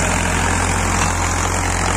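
A Powertrac 50 or 55 tractor's diesel engine runs close and loud, a steady low throbbing rumble with an even pulse and no voices.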